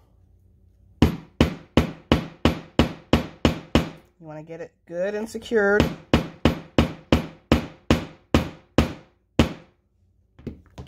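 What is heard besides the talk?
hammering a metal snap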